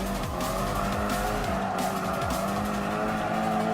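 Race car engine roaring continuously at close range in Gran Turismo Sport, with shifting revs and tire squeal while racing behind an Alpine A110 Premier Edition on medium tires.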